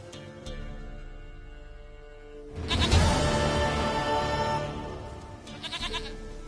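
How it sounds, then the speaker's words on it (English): Goat in The Witcher video game bleating in a long, wavering cry near the middle, followed by a shorter bleat, over quiet background music. "Goat of mine, dearest, sweetest goat."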